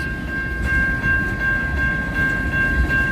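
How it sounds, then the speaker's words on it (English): Late at night, two trains pass each other at a meet, a loud, steady rumble of rolling rail cars with a sustained high whine running throughout. "A train meet. Two trains that meet each other."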